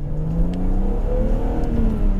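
A warmed-up BMW Z3 M Coupé engine revs loudly and close, its pitch climbing and holding in a smooth, sustained whine with no talk over it.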